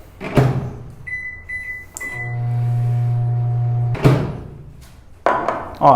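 A microwave oven heats chocolate for 30 seconds: door thumps and clunks, a short run of beeps, then a steady low humming drone, followed by more knocks and handling sounds nearby.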